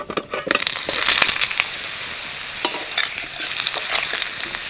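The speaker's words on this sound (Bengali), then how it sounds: "এইবার আলু দিয়ে দেব।" Potatoes drop into a hot pan of oil for a light curry with eggplant and plantain. A loud crackling sizzle bursts up, then settles into steady frying with stirring scrapes, close and with no talking.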